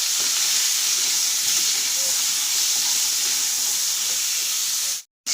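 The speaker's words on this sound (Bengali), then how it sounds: "সর্ষের তেল আমি তেলটা গরম হয়ে গেছে কাঁকড়াগুলো দিয়ে দিলাম কাঁকড়াগুলো আমি এবার ভেজে নেব" Crabs fry in hot mustard oil with a loud, steady hiss and sizzle that is briefly cut to silence just before the end.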